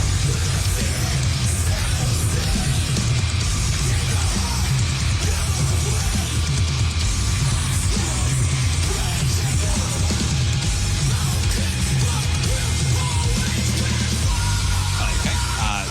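A song, a loud, dense rock mix with screamed vocals running continuously at steady volume throughout.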